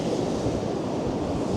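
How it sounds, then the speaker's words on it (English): Ocean surf washing onto a beach at Sandymouth at sunrise, a continuous close roar of breaking water mixed with wind buffeting the microphone. "I'm just waiting for the waves to come in"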